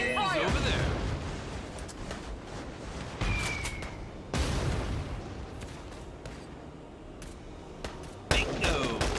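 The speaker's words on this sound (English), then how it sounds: "The enemy's returning fire!" Enemy soldiers return fire in the game Valkyria Chronicles 4, with several sharp gunshot bursts and booms spaced irregularly while a player talks over the action.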